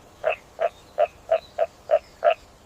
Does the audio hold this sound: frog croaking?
yes